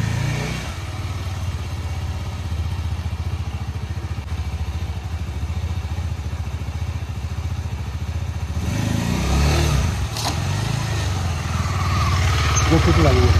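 A motorcycle engine idles at Lachen in North Sikkim, a steady low rumble that swells slightly toward the end, with voices speaking over it.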